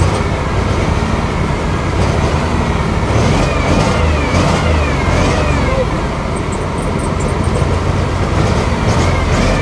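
A 1993 Mercedes SL500 with an oil leak revs loudly and close, its engine note rising and falling as the throttle is worked, with a voice talking over it.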